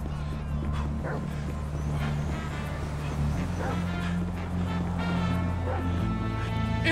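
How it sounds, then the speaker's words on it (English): Dog barking and yipping in the video game GTA V, a run of short barks and whimpers over a steady game soundtrack and engine hum, moderately loud throughout. "It's a guy chasing a dog!"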